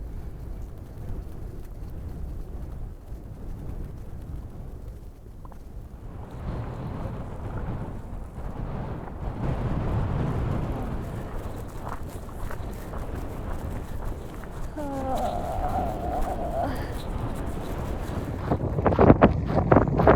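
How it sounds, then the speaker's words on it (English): Strong wind on a mountain trail along the Continental Divide, a steady low roar and buffeting that swells and eases, close and loud throughout with occasional gusty rumbles and no talking. "The wind's dying down a little as we tuck into these trees."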